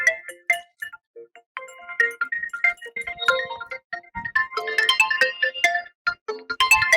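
A phone ringtone plays a bright, repeating electronic melody, loud and close, with no talking.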